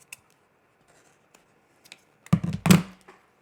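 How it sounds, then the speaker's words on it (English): Scissors trim a loose thread off a sewn tote bag, giving a couple of close, crisp snips after a few faint ticks of handling in a quiet room. "I see a thread I need to trim off."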